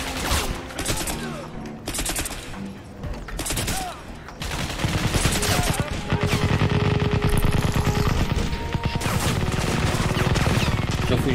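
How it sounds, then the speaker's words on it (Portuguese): Rapid bursts of automatic gunfire in the shooter Crysis Remastered come in separate volleys at first, then build into sustained, dense machine-gun fire with crashing impacts, loud and close. "Quem tá atirando em mim?"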